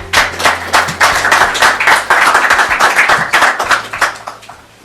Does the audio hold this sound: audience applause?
yes